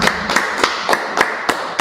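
Claps land in a steady, even rhythm, about seven sharp beats in under two seconds, clear and close with no talking.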